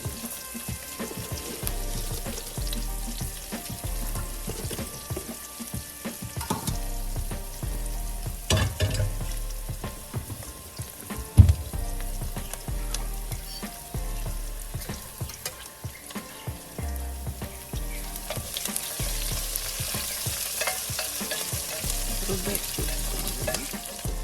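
Tadka tempering sizzling and crackling in hot oil in a pan on a home stove, for pappucharu, a spicy South Indian lentil stew, with a continuous bright frying hiss, occasional pops and clinks, and no talking.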